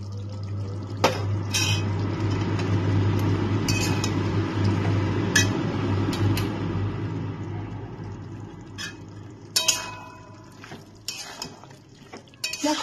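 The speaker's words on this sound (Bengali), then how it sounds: "এইবার আমি এই ঝিঙে আলুটার মধ্যে বেটে রাখা কাঁচা লঙ্কা, পোস্ত আর রসুনটা দিয়ে দিচ্ছি।" Chili, poppy seed and garlic paste added to ridge gourd and potato in a pan: a low steady sizzle under sharp metal clinks and scrapes of a spoon against the pan, scattered and close.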